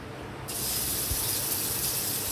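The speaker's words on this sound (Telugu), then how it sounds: "ఇప్పుడు ఒక పావు నూనె పోసుకుంటున్నానండి." Cooking oil poured into a pan, a sudden hissing gush that starts abruptly and keeps flowing steadily up close.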